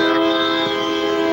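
Train passing by with a loud, sustained horn that holds a steady, layered pitch, accompanied by a rumbling rail noise for the whole stretch.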